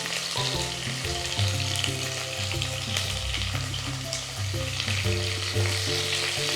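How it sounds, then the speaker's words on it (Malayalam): Small onions sizzle steadily in hot oil with mustard seeds and fenugreek for an onion curry. The frying hiss is loud and continuous, with background music playing throughout. "ഇനി നമുക്ക് ചെറിയ ഉള്ളി അതിനകത്തോട്ട് ഇട്ട് കൊടുക്കാം."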